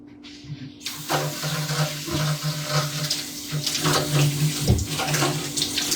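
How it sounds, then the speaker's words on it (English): Tap water gushes steadily into a sink while hands are washed beneath it, a close, continuous splash with uneven sloshing and a low hum underneath. "Let's get the hands washed."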